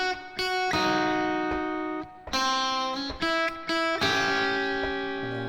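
Electric guitar plays the final line of a Rockschool Grade 3 piece, bluesy single notes with slides and sustained ringing tones, some with vibrato, up close with no talking over it.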